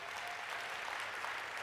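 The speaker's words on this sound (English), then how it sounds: "Come on, give the Lord a hand clap right now." A church congregation fills the space with dense, continuous hand clapping, an even roar of many hands with no break.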